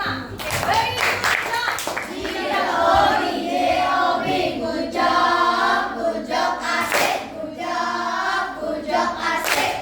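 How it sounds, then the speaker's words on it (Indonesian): A classroom of students claps for a group after its presentation, a burst of sharp, close hand claps with voices talking and calling out over and between them. "Oke, tepuk tangan untuk kelompok 5."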